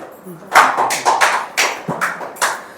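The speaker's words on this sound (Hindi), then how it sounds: "जिसको भी नींद आ रही जोर से ताली बजा" At a Sunday church service the congregation claps hard in a regular beat of sharp, close hand strikes, with a voice talking faintly under the rhythm.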